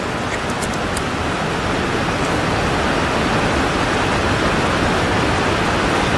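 Heavy rain falling outside a building, a thick continuous roaring hiss at steady loudness with no pauses and no talking.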